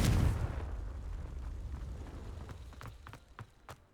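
A Confringo blasting curse explodes in Hogwarts Legacy, a loud booming burst at the start that decays into rumbling debris, followed by a few sharp crackles and pops toward the end.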